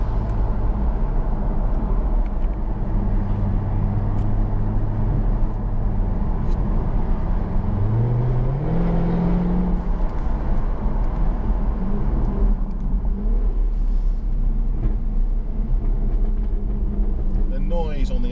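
A Jaguar F-Type's engine drones loudly and steadily on the overrun on a road in Wales, its pitch sliding up midway before settling, with someone talking over it.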